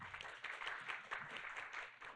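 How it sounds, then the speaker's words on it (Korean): Audience at a Korean ESG and social-value conference applauds to welcome the next presenter, a steady wash of many hands clapping, fairly faint and distant in the hall, with no talking over it. "힘찬 박수 부탁드립니다"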